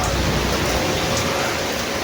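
Steady rain pours down at an abandoned beach resort in Batangas, a dense, even hiss of drops on surfaces filling the whole moment, close and constant with no other sounds.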